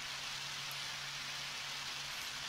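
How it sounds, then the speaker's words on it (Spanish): Steady rain from a video game, Undertale, hisses continuously, a soft even wash of falling drops with a faint low hum underneath and no voices. "Está lloviendo."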